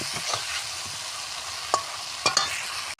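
Eggs being stirred through sizzling masala in a hot pan, a steady frying hiss broken by a few sharp scrapes of the spoon, close and alone with no voices.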